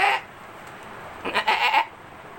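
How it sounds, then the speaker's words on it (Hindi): A goat bleats twice outdoors, one short call followed after a pause by a longer wavering bleat, fairly close and clear with no talking. "उसके बाद मुर्गे की आवाज़ के बाद मैंने बकरी की आवाज़ सुनी।"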